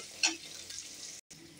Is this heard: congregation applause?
no